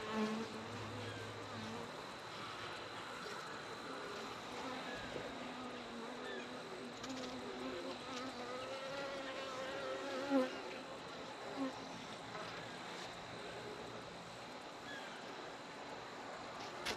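Honeybees buzz around beehives on a farm in winter, a soft continuous drone with individual bees passing near and away over faint outdoor background.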